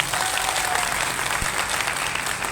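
Steady, loud applause from a seminar audience at a team leadership program in Katni, a dense continuous patter of clapping that fills the whole stretch without pause.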